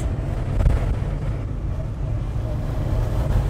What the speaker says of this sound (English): Got a windy day today.